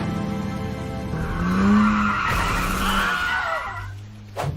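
A Ford Lightning electric pickup truck skids with a loud, sustained tire squeal that rises and wavers for several seconds, then cuts off sharply near the end.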